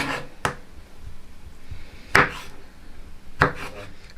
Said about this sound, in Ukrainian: помідори ми почистили і зараз ми їх теж нарізаємо